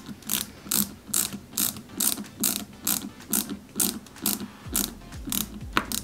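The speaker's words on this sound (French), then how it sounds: "je vais visser les vis du milieu d'abord" A screwdriver drives screws into a Peugeot 205 GTI 1.9 model car kit, each turn giving a close, steady ratcheting click in even rhythm, about two per second, with no voice.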